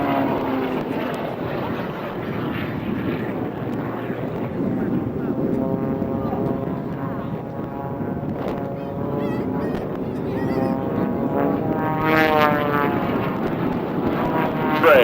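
Military jets at the Andrews AFB air show roaring overhead, a loud sustained rumble that swells toward the end, with a public-address voice talking over it.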